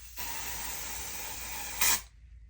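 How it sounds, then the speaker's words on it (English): A continuous hiss from a spray can of lace tint for nearly two seconds, ending in a brief sharper burst before it cuts off. "when we're spraying the tint, we spray it from afar."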